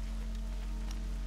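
Steady rain patters across surfaces in the video game Horizon Zero Dawn, alongside a constant low electronic hum, with no voices.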